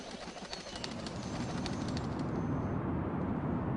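Pigeons coo in soft, low repeated calls close by, alongside a few faint chirps and a steady outdoor background, with no voices.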